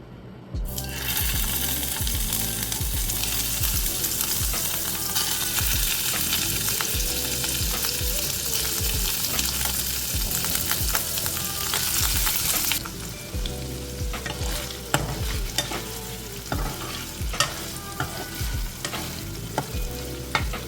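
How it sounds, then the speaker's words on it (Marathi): Paneer fries in hot ghee for a dhaba-style lasooni palak paneer, giving a dense, loud, continuous sizzle with occasional clinks and scrapes of stirring; the sizzle thins somewhat partway through. "ह्या तुपामध्ये आपण आता पनीर तळून घेऊया."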